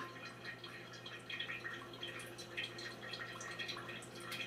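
Cold brew coffee drips through a filter into a pitcher at home, giving small, close, irregular drops over a faint steady background hum.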